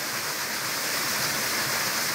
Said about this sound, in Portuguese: Chegamos à cachoeira, olha que coisa mais linda isso.